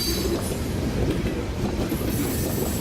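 A train on the U.S. Sugar Railroad in Clewiston, Florida rumbles past close by, a loud, steady roar of rolling wheels with clattering rail noise and a faint high squeal; no voices.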